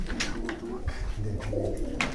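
Pigeons coo steadily in a loft, soft throaty calls overlapping close by with a few brief chirps, no talking.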